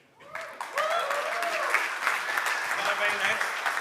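An audience at a tech innovation showcase breaks into applause that starts abruptly, then swells into sustained clapping mixed with cheers and crowd voices.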